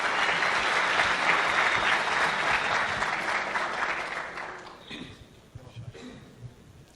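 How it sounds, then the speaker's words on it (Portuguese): A conference crowd at a PHP developer event in Curitiba applauds a speaker, steady dense clapping for several seconds that fades out, leaving scattered single claps and light room noise. "Então uma salva de palmas pro Jonathan!"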